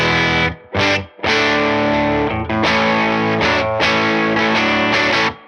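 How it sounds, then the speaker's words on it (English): A fuzzy, spitty overdriven guitar through a Whimsy Machines Sweet Tooth pedal rings out sustained chords, loud and close, with a couple of short breaks between them. "from like a really, really nice low gain overdrive to a really spitty fuzz"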